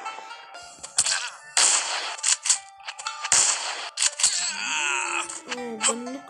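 Sharp gunshots from a ninja video game burst out in quick, irregular bursts alongside whooshes and electronic effects, mixed with a voice talking over the action.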